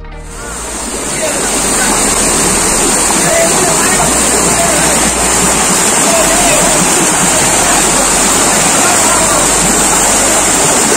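Yanai Kajam waterfall in Theni roars as a loud, constant rushing wash of falling water, close by and steady throughout.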